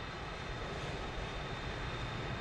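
An aircraft taxiing at Warsaw-Radom airport in Microsoft Flight Simulator 2024, a steady, even engine drone and rumble with a faint high whine, continuous and unchanging throughout.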